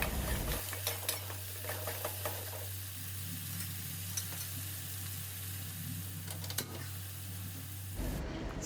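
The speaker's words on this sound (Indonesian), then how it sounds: "Kemudian kita masak bumbu-bumbunya, tumis hingga harum." Chili spice paste for terong balado sizzles in a pan, a continuous close hiss with a low hum underneath and scattered clinks and scrapes of a utensil stirring.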